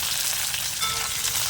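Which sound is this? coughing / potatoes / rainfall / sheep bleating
potatoes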